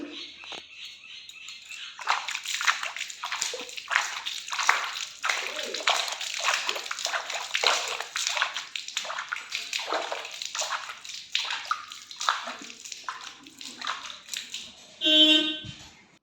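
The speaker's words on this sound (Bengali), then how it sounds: "চলো কথা না বলে আমি মন্দিরটা ধুয়ে নিই।" Water splashes and pours repeatedly over a small home temple shrine as it is washed, a dense run of close sloshing bursts with a brief louder clatter near the end.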